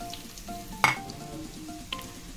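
Onions fry in oil in a kadhai, giving a quiet, steady sizzle close by with a couple of sharp clinks from a utensil.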